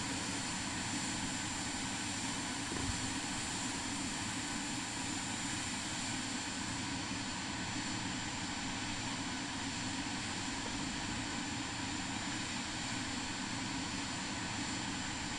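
Steady, continuous aircraft engine drone in Microsoft Flight Simulator 2024 on PS5 during an approach to a St Barts landing, a dense unbroken roar holding level throughout with no pauses.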